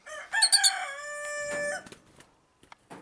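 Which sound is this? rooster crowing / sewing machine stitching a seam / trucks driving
rooster crowing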